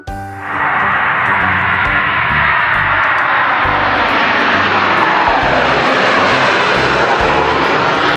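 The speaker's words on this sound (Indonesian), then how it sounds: "Belajar transportasi udara, pesawat penumpang." A passenger airplane's jet engines roar loudly and steadily after a quick swell at the start, a broad sustained rush with no voices.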